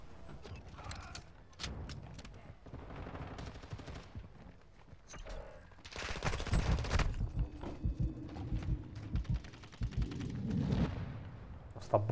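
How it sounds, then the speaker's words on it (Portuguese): Gunfire in the video game Call of Duty: Modern Warfare II, with scattered shots and bursts at first, then dense rapid firing and explosive blasts building louder in the second half, and faint voices mixed in. "Você simplesmente toma tiro em todos os lados."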